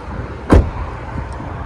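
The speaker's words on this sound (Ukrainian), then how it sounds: "Тут так двері відкриваються." A car door opens with a single sharp mechanical clunk from the handle and latch, heard close over low background noise.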